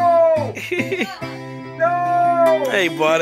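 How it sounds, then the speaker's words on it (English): A cat meows in a few drawn-out, rising and falling calls, loud and close, while a person talks over and between them. "That's a cat."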